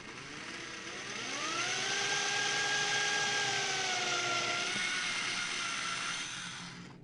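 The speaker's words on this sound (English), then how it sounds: "We're gonna go ahead and drill out the slot for the last one" A power drill boring a slot into a guitar body, a steady whining motor with a rising then level pitched tone, close and continuous, easing off toward the end.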